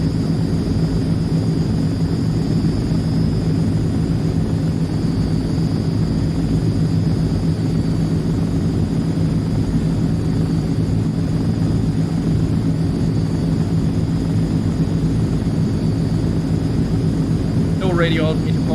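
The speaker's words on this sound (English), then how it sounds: "land my airplane, and as said, we are going to make this one a touch and go." An AzurPoly C160 Transall RC model airplane comes in to land for a touch and go, its propeller engines droning steadily and loudly throughout with a constant hum.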